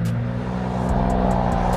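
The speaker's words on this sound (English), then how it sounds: "Damn, that V6 sound real good." A V6 car engine revs loud and close in a steady, sustained drone, with the throttle rising and holding throughout.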